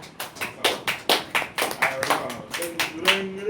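Children clap their hands in a steady, brisk rhythm of about a dozen sharp claps, close by, with some voices in the background.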